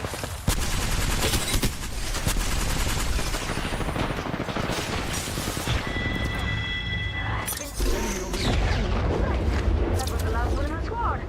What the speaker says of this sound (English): Enemy spotted. Firing.